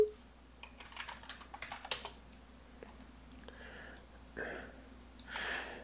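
Quick keystrokes on a computer keyboard at a Windows 7 PC, a rapid run of close, crisp clicks followed by a few spaced taps and soft rustling.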